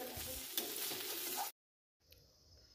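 Potatoes and urohi beans frying in a pan, a steady close sizzle with stirring scrapes for about a second and a half, then a brief silence before quieter sizzling resumes.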